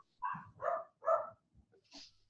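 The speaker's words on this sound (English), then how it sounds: "I'm trying to find where our barking dog is." A dog barks three times in quick succession, then gives a faint whimpering yip, moderately close but quiet overall.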